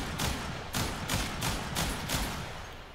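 Kuva Kraken flak pistol from Warframe firing in a steady rhythm of about six loud, close blasts over three seconds, each a sharp broadband burst above a dense, continuous background rumble, with no talking.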